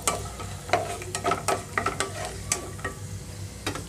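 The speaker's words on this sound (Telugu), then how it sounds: "ఇంకొక 2 నిమిషాలు ఉంచితే పర్ఫెక్ట్గా ఫ్రై అయిపోతాయి కొబ్బరితో సహా." Raisins and shredded coconut frying in a pan for semiya payasam with coconut milk, a steady close sizzle broken by repeated stirring scrapes and clicks throughout, with no talk.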